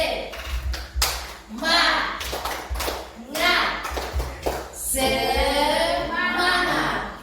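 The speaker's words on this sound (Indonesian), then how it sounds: "Tepuk semangat dulu." A classroom group performs the Indonesian 'tepuk semangat' clap chant, with sharp rhythmic bursts of clapping interleaved with loud chanted voices.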